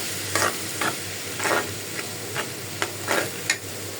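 Spice paste for a dried fish curry fries in a pan while a spatula stirs it, steady sizzling punctuated by about eight rhythmic scraping strokes, close and clear with no talking.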